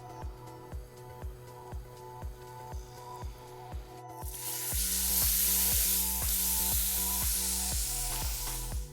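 Food hitting a hot pan and frying: a loud steady sizzle bursts in partway through and keeps on close up, over a regular ticking pulse and a background hum, with no talking.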